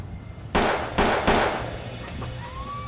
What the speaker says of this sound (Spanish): Uno disparó 3 veces y salieron huyendo.